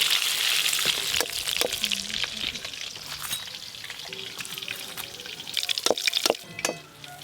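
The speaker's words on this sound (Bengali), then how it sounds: "এবার চিকেন পকোড়াগুলো ভেজে নেব।" Chicken pakoras frying in hot oil, a steady crackling sizzle with bubbling and occasional sharper pops, fairly close and loud, no talking.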